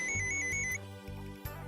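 A phone's electronic ringtone plays as a short melody of bright, repeating beeps for under a second, then gives way to a steady musical background with no talking.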